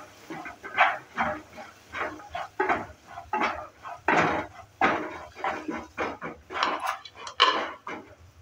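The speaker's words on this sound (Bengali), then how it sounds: "মটরশুঁটিটা দেওয়ার পর আবারও ভালো করে একটু নেড়ে চেড়ে নিচ্ছে" Peas being stirred in a pan for bread roll filling, with repeated scraping and clattering strokes of a utensil against the pan in an irregular rhythm, close and moderately loud, with no talking.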